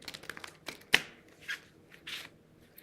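Cards are shuffled in quick crisp riffles and snaps, several separate bursts close up, with no talking.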